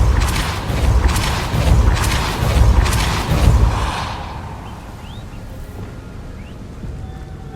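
Casting the Repulso spell in Hogwarts Legacy produces a loud, broad rushing blast with pulsing surges that lasts about four seconds, then fades into a quiet, low ambient tail.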